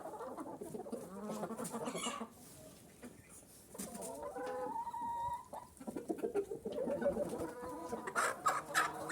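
Hens and a white rooster in a farmyard flock eating, with repeated close clucks and short calls in an irregular run, some louder bursts toward the end.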